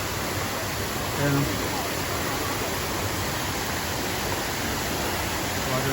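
Shifen waterfall in Taiwan rushes with a dense, steady roar of falling water, constant and loud, while a person speaks briefly over it.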